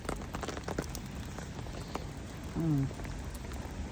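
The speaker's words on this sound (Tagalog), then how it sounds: "umuulan." Rain falls steadily on a rainy day, a soft continuous patter with scattered drops throughout, and a brief tonal sound rising over it near the end.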